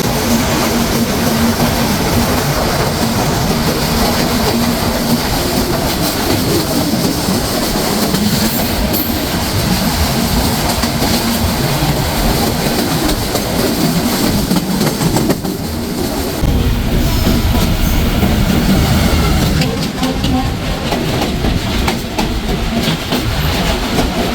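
The Silkcity Express runs on the rails into Kamalapur railway station in Dhaka, a loud, steady rumble of carriages and wheels filling the whole stretch, with faint clatter and squeal along the track.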